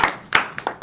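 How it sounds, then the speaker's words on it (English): A small class audience claps in a brief burst, a few scattered, close hand claps trailing off within a second. "Give him a round of applause."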